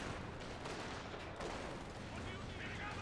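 Dense machine-gun fire rattles continuously in a Company of Heroes 2 winter battle on the Rzhev map, a steady wall of overlapping gunfire and explosions across the whole moment.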